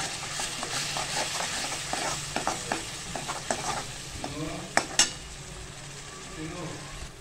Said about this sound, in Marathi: आता हे छानपैकी आपल्याला वाटण परतून घ्यायचं.